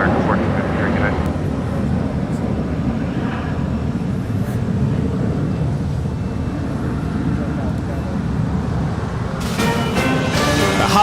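An Alaska Airlines Boeing 737 MAX 9 in Orca livery arrives at LAX, its jet engines a loud, steady roar that fills the whole stretch and swells slightly near the end.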